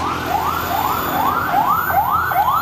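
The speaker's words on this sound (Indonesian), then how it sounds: "Ambulan mau kemana ya?" An ambulance siren wails in a steady, repeating rising sweep, loud and fairly close, cycling about six times with no voices over it.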